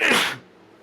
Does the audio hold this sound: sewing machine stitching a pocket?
no